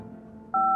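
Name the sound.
telephone keypad dialing in a video game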